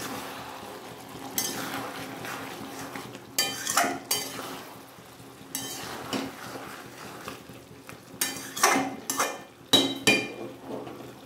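Bitter gourd pieces stirred in a cooking pan for sukta, irregular scraping and clinking strokes of a metal spatula against the pan, close and fairly quiet.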